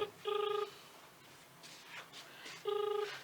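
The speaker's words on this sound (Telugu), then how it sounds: "అందశ్రీ సార్ ఫోన్ చేస్తున్నాడు" A telephone call gives two short bursts of an electronic ring tone separated by a pause, faint and set against low background noise.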